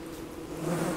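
Bees in the game Don't Starve Together buzz as a swarm, a continuous droning hum that grows slightly louder over the short stretch.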